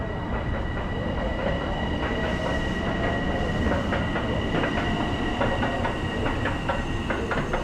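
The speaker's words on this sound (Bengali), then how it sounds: "একটি ট্রেন চলে গেল" A train rolls through Lynbrook station in New York, a loud, steady rumble with rhythmic clickety-clack of wheels on rail joints and faint squealing, heard up close without speech.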